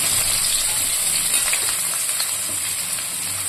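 Chopped onion fries in hot oil in a wok with bay leaves, dried chillies and cumin, giving a steady, even hiss with a few faint stirring scrapes.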